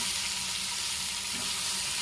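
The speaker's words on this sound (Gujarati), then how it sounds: "હવે આપણે એમાં બટેટા એડ કરી દઈશું।" Tomatoes frying in hot oil with boiled potatoes added hiss in a steady, close sizzle with faint stirring underneath for pork-free Gujarati poha bateta.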